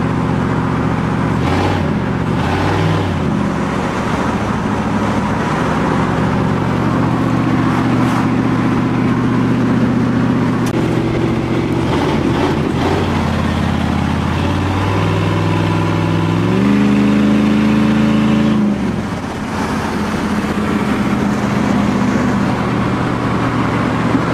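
A powerful LS V8 engine in a third-generation Pontiac Firebird revs up and down repeatedly, its deep exhaust note rising and falling in pitch, loud and close with no talking.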